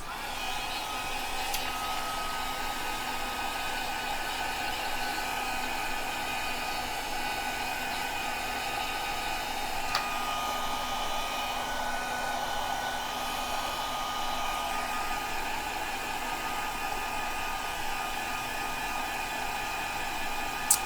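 A heat tool blowing on a mixed-media craft project, a steady loud whooshing blower hum with a faint whine, running continuously and close with no talk.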